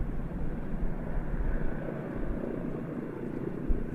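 A Breguet Alizé naval aircraft with a retractable radar dome departs at an airshow, its engine a steady, moderately loud propeller drone with a fluttering low rumble, heard alone without talk.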